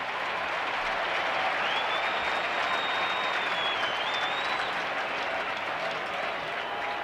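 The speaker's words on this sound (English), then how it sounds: "this huge crowd here tonight, partisan Twins crowd, they've been cheering wildly for the Twins" A huge partisan Twins crowd at a 1991 World Series game cheers and applauds steadily and loudly throughout, a dense continuous roar of clapping and shouting with no break.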